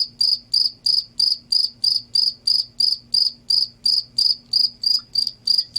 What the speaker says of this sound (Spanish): ahora estamos escuchando el ruido de este grillo